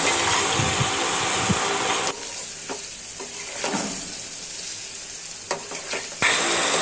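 Noodles frying in a pan with egg, chicken, carrot, potato and sauce, a loud continuous sizzle that drops to a softer crackle midway with a few stirring clatters, then swells again at the end.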